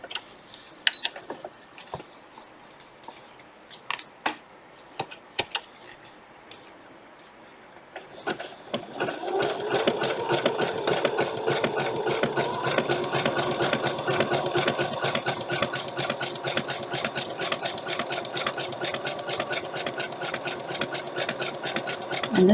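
Sewing machine stitching vintage Sunbonnet Sue quilt blocks, starting after a few quiet handling clicks and then running in a steady, fast, continuous whir up close.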